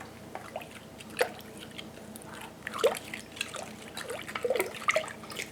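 A spoon stirs sourdough starter and sugar into cold fridge water, making soft, irregular liquid sloshes and light clinks against the container, close and fairly quiet.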